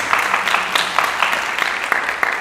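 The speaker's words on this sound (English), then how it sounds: "So give her another round of applause on this" At a school music boosters meeting, a small group claps with distinct, fairly regular hand strikes standing out over light room noise, a modest round of applause.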